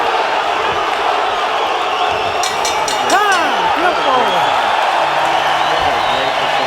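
A boxing arena crowd in Tucson cheers and whoops steadily at a fight's final bell, loud and continuous, with a commentator talking over it and a few sharp whistles cutting through.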